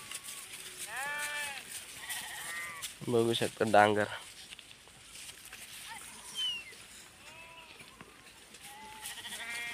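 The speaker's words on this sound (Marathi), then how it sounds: "सर्वीकडे मेंढ्याच मेंढ्या" A flock of sheep bleats in an open field beside a watermelon farm, one loud nearby cry standing out among fainter calls in the distance, while someone talks over them.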